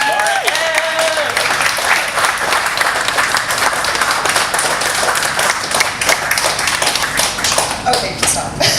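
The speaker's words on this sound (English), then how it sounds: "So please give a huge round of applause for Laura Epp." Dense, sustained applause from an audience at a community vegan food drive event honoring a city councillor, loud and steady throughout, with faint voices and cheers mixed in.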